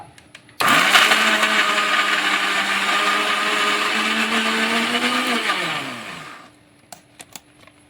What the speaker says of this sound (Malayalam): അപ്പം നമ്മൾക്ക് ഈ നാളികേരം ഒന്ന് ചതച്ചെടുക്കാം കേട്ടോ